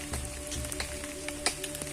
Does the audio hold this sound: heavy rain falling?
yes